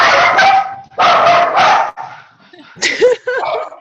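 A small dog yips and barks in several bursts, fairly close and loud, with short pauses between, heard indoors during a Zoom video call.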